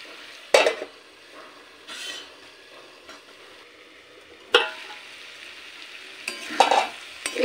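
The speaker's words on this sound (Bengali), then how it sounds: "এবার সমস্ত কিছু ভালো করে নেড়ে নিয়ে আরও কিছুক্ষণ ঢাকা দিয়ে মশলার সাথে ভালো করে কষতে দেব।" A curry of jackfruit, potato and prawns with spices is stirred in a pan: a low sizzle under sharp metallic scrapes and clinks of a spatula against the pan at irregular intervals, close and with no speech.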